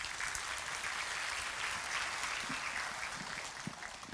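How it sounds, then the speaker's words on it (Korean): A church congregation at a Sunday worship service claps warmly, a dense, sustained round of applause that carries on steadily throughout without talk. "지금 청년회 간사를 맡고 계시는 김영지 간사님 나오실 때 여러분 뜨거운 박수로 맞아주시기 바랍니다."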